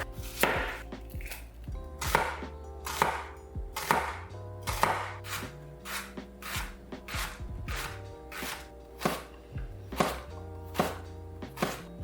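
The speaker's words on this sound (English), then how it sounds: "I'm trying to get this diced as finely as possible so there aren't any large chunks of onion in the meatball." A knife finely dices an onion on a cutting board, giving a steady run of crisp, close chops in quick rhythm with low music underneath.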